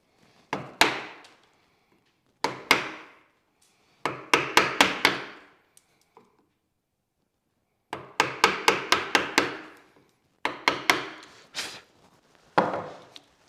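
A chisel driven by a mallet chops into wood for a chair, cutting from each side toward a small mound: sharp, close, loud strikes in quick bursts of two to six, separated by short pauses, with no talk.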